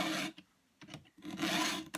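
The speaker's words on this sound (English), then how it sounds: "it's just a case of putting the file on the first cutter" A round file rasps across a chainsaw cutter in two close, scratchy strokes separated by a brief pause, dry and rough with no voices.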